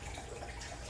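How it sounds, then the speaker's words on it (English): A baptismal font's gushing spring effect, with water boiling up at the surface, makes a steady, close, continuous bubbling wash, soft and even, with no talking. "This one, where the water boils up on the surface and there's more visibility and more sound, is called the gushing spring."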